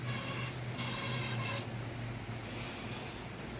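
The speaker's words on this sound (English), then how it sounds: "We're just going to wipe it off a little bit. It's got quite a good bit of dust on it." A cloth wipes dust off a Keihin throttle body from a 1600 Kawasaki Nomad Classic, a close, steady rubbing swish with a few stronger strokes early on, heard alone.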